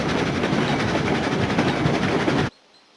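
A train rolls steadily in the Railroads Online video game on a Tofte and Lake Superior trip, giving a loud, continuous rumble with faint clickety-clack that cuts off abruptly near the end.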